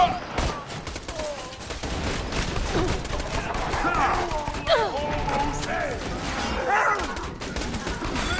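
Automatic turret firing rapid bursts of gunfire in a chaotic Borderlands 2 co-op shootout, mixed with mechanical clanks, crashes and effects that continue throughout under occasional game noise.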